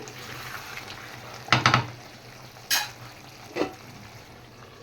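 Chicken and potato curry for biryani simmers in a pot with the heat turned down, a soft steady bubbling and faint sizzle, broken by a few close stirring scrapes and clinks.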